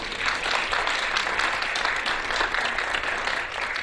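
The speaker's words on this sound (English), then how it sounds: "Let's have a special round of applause for the Bob Bullock Texas State History Museum, please." Sustained audience applause fills a quiz show studio at a museum tribute, a dense, steady wash of many hands clapping at even loudness throughout with no voices over it.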